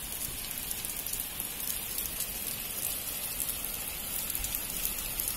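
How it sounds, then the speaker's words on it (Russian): Rain pours off a house roof in a steady, dense rushing hiss with a patter of drops, unbroken throughout and close by, with no voices. "То стихает, то опять начинает. Это дождь."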